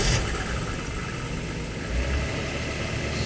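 A super saloon car idles through its standard stainless steel exhaust, giving a steady, subdued low rumble that runs evenly for a few seconds.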